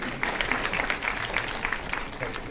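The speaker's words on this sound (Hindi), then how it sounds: "तो इनके लिए भी विशिष्ट रूप से तालियां बजा सकते हैं।" Applause from an audience at an award ceremony in Bharat Mandapam, Pragati Maidan: a brief, moderately loud patter of many hands clapping at once, even and continuous.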